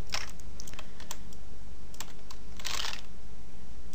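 Typing on a computer keyboard while entering text for a barcode-style title graphic, heard as sparse, close key clicks with a denser burst of keystrokes near the end, set against a steady low hum.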